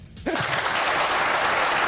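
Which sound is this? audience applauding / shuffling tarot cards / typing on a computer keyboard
audience applauding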